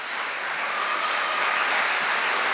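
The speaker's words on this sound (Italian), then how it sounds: "Applausi comunque per Ljubenovic, che ha fatto una gran partita" Steady clapping fills a basketball arena as a player fouls out and leaves a women's Serie A2 game, a dense, even burst of applause with no talk over it.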